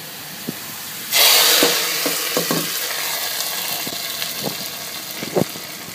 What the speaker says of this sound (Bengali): পেঁয়াজটা যখন এভাবে ফোড়ন হয়ে যাবে তখন এটা আমি ডালের মধ্যে ঢেলে দিব।